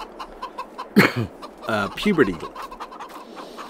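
Chickens clucking in a pen in the Farming Simulator 22 game, several loud close bursts of clucks in quick succession, with someone talking briefly among them.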